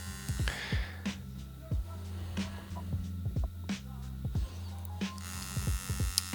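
Tattoo machine buzzing during blackwork portrait tattooing, a close electric hum broken by repeated short bursts and pauses, with sharp clicks between runs and no talking.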